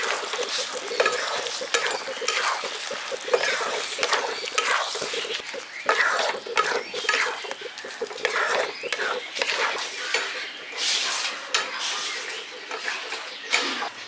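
Cabbage balls are stirred into a simmering Manchurian gravy in a village-style kitchen, giving a steady sizzle with scraping stirs and clattering pan knocks throughout, loud and close with no voice over it.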